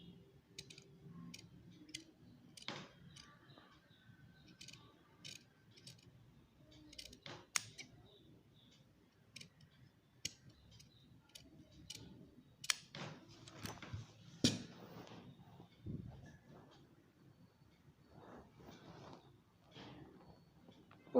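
Scissors snip through fabric to cut out a circle for a moulded fabric-covered button, giving a series of sharp, close clicks and crisp snips at irregular intervals, with a few louder cuts midway and light handling noise between them.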